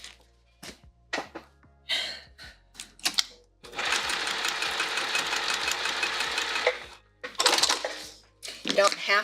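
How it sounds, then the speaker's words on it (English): A sewing machine stitches across a quilted fabric pouch in a steady, fast mechanical whir lasting a few seconds, framed by short clicks, taps and brief bursts of stitching before and after. "Now we'll sew right across there."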